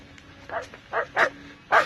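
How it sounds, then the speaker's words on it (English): A Guardline wireless alarm receiver plays its dogs-barking alert tone, four or five electronic barks in quick succession, close and clear over a faint hum. "We got dogs barking tone."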